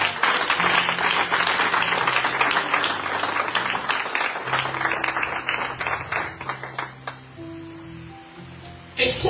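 A church congregation applauding in a sustained, dense wave of clapping with cheering voices, loud and continuous before thinning out near the end.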